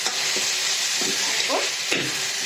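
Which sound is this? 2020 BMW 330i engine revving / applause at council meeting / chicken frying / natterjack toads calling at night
chicken frying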